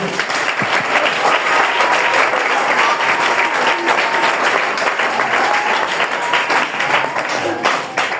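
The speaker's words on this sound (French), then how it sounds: "Il faut acclamer le Seigneur." Congregation at a prophetic church service applauding the Lord: dense, sustained clapping from a large crowd, loud and steady throughout with faint voices mixed in.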